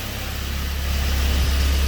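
A Honda CRX with a swapped K24 engine idles steadily at about 1,000 RPM after throttle body work, a close, continuous low rumble that holds even and grows slightly louder.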